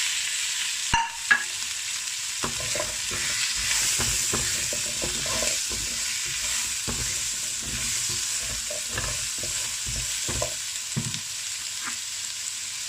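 Beef brisket with yellow onion and carrot fries in a pan, with a steady sizzle and repeated scraping stirs from about two seconds on.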